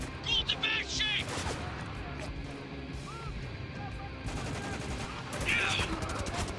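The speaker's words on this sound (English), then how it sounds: "We're under heavy fire back here!" Heavy gunfire in the Spec Ops: The Line video game, with rapid bursts of shots and crackling impacts under a tense combat soundscape while voices shout over it.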